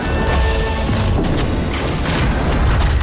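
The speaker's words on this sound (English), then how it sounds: "It explodes in a dazzling burst of light that blinds any nearby vampire caught in its rays." A light bomb explodes in the Nosgoth video game, producing a loud, sustained blast and crashing roar that fills the whole moment with dense noise and no pauses.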